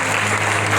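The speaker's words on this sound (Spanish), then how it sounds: "¿Cuánto dan este fuerte aplauso?" A church congregation breaks into loud applause during a sermon, a brief dense burst of clapping filling the room with no voice over it.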